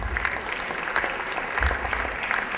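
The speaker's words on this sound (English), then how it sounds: "I think that deserves a clap, no?" An audience at a charity fundraising evening breaks into sustained applause, with a dense, even wash of many hands clapping at close range and steady loudness throughout.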